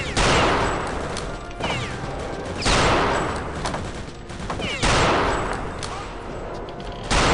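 Rapid gunfire from a weapon in Return to Castle Wolfenstein, loud sustained bursts of shots that repeat in three long volleys with short pauses, close and dense over the game's background.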